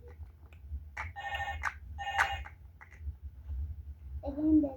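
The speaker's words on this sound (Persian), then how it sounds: "زنگ خورد ماما" A phone ringtone rings indoors in a family home in a few repeated melodic bursts, with a voice chattering around it.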